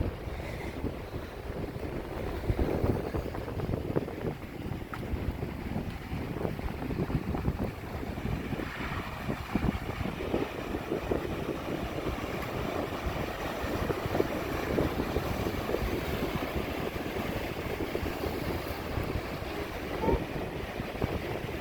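Wind-whipped surf pounds a jetty on the Pacific coast, a sustained heavy roar of churning water with constant gusts buffeting the microphone, loud and unbroken for the whole stretch.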